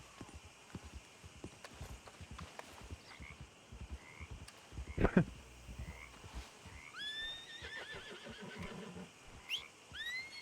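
A horse in the video game Red Dead Redemption 2 in a swamp setting, with hooves clip-clopping faintly and a loud whinny midway, followed by whistle-like calls and ambient croaks, no talk.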